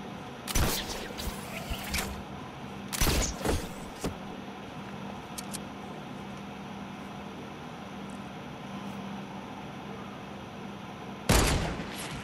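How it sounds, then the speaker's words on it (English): Sniper rifle shots in a video game, a few sharp, loud cracks spaced apart, the last one after a long stretch of quieter background. "I sniped that dude that was on the ground."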